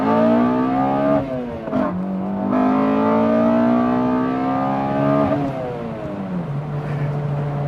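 Honda K24Z3 engine with Drag Cartel cams revving up and down through several rising and falling sweeps, loud and close with a steady intake and exhaust drone and no talking.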